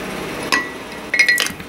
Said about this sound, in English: And then just some ice cubes,